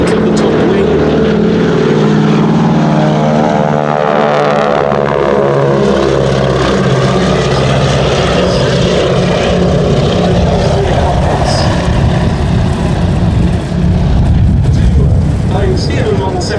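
Propeller aircraft carrying wing walkers during an air display at Duxford Air Festival, a loud, steady engine drone with shifting pitch that stays constant throughout, with crowd or commentary noise faintly mixed in.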